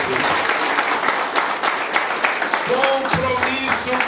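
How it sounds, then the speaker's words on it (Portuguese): A church congregation at a crusade service breaks into sustained, loud applause, dense clapping filling the room throughout with a voice speaking over it. "Dê uma forte salva de palmas para o Senhor Jesus."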